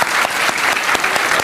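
An audience at a Hindi TV debate show applauds the winner, loud close clapping in a brisk, continuous patter with distinct individual claps, steady for the whole moment.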